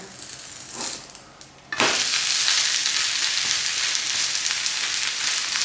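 Uthappam, a thick South Indian rice-batter pancake, sizzling on a hot pan after being flipped. A soft clatter comes first, then a sudden loud, steady frying hiss that carries on without a break.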